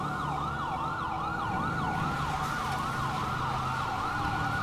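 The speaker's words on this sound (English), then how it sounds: "you'll probably hear the sirens here shortly" Police sirens in the video game GTA 5, a loud, steady wailing siren cycling rapidly up and down in pitch over a low engine and traffic rumble, with no talk.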